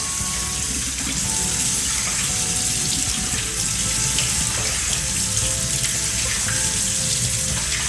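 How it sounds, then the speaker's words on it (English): Tap water pours steadily over a can's worth of drained black beans in a strainer, a continuous close hiss and splash at even volume throughout with no talking. "1 can of black beans, and just run some water over them"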